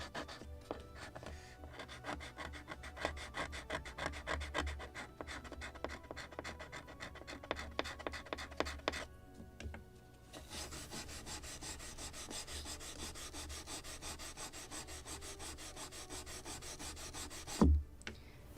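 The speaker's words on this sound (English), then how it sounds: "Maybe a little more scraping here." Steady rubbing and scraping across the wooden planking of a scale model of the 1776 gunboat Philadelphia, close and continuous with brief pauses, ending in a sharp knock.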